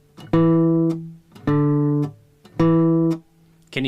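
Guitar notes played in sequence, each with a short buzzing rattle as the fretting finger releases the string; three sustained notes cut off with a small buzz between them, close and alone.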